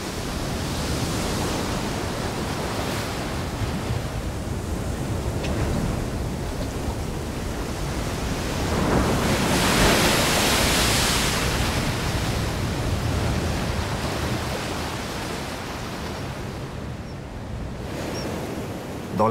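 Ocean waves wash over and break against coastal rocks in a steady roar of surf, swelling louder in the middle and easing again, with no voices.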